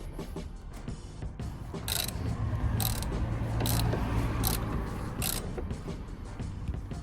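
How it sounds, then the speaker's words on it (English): Socket ratchet clicking in short bursts as it works loose the rear shock absorber nut on an Alfa Romeo Giulietta, the pawl chatter close and fairly loud over a steady garage background hum. "I'm just going to try and get in there with the socket, with the ratchet, shall we say, and see if we can get this undone."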